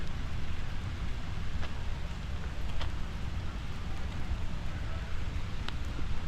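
Rain falls in Central Park, New York City, a soft, constant patter and hiss with a few faint sharp ticks of drops, mixed with low rumbling wind noise against the microphone.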